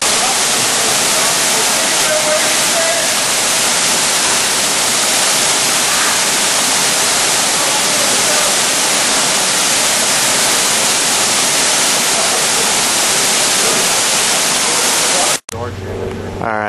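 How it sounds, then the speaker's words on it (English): A loud, steady roar of rushing water from the waterfall at Hamilton Pool fills everything, unbroken for a long stretch before cutting off abruptly near the end. "Chilling under the waterfall."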